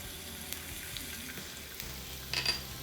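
Finely chopped garlic frying in oil in a large tawa pan gives a soft, steady sizzle throughout, with a brief louder clatter near the end.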